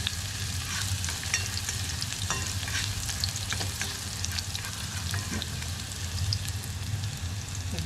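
Onion, garlic and ginger sauté in hot oil with a steady, close sizzle and frequent stirring scrapes, and a low hum runs underneath throughout.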